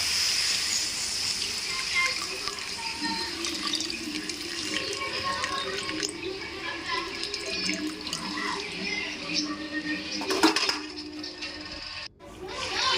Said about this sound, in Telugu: చింతపండు కట్ చేసి ఇందులో ఫస్ట్ పోసేస్తాను